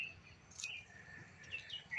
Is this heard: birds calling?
yes